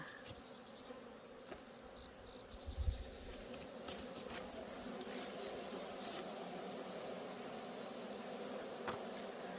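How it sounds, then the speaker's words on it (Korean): Honeybees stream out of an opened hive, a steady close buzzing drone that persists throughout, with a brief low thump partway through. "꿀벌들이 너도 나도 나가자 나가자 이러면서 밖으로 나가고 있습니다."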